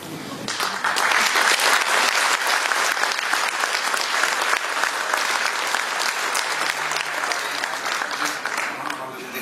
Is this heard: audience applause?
yes